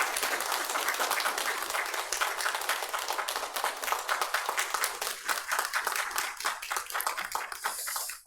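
A church congregation applauding during a Sunday worship service as new lay officers are appointed, dense steady clapping from many hands filling the room for several seconds without speech.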